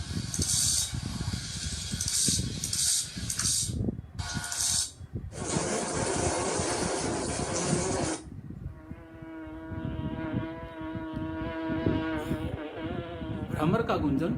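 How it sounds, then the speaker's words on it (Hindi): A bumblebee buzzing: a steady, droning hum with rich overtones, preceded by sharper, hissy bursts, close and fairly loud throughout. "भ्रमर का गुंजन, जैसे भंवरे आवाज करता है वैसी ध्वनि,"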